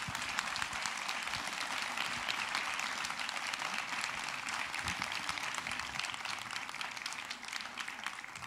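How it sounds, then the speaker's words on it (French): An audience at a talk on organic and biodynamic viticulture gives dense, sustained applause, many hands clapping steadily and fairly evenly throughout, with no voices over it. "Je vous remercie de les applaudir."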